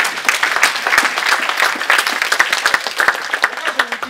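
A church congregation applauds and cheers in praise of the Lord, dense steady clapping from a large crowd with voices rising through it, close and loud throughout.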